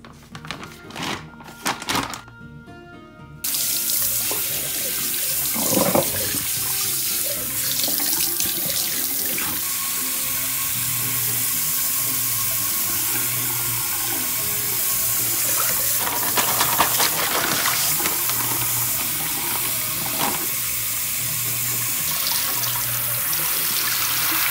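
Water runs from a tap into a sink for washing, a few short splashes at first, then a steady continuous gush with occasional clunks and trickling changes.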